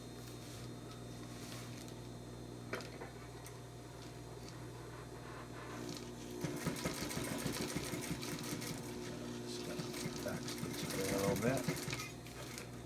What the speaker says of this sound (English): I'm going to finish it by sewing right down to the end